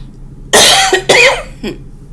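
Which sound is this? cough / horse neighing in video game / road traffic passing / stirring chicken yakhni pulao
cough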